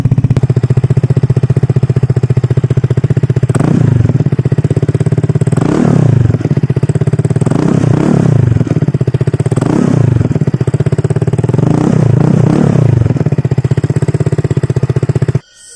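A Vespa Primavera scooter with an Akrapovic Tri-Oval muffler and no silencer idles loudly up close, a steady throbbing putter broken by several short throttle blips, with no talking.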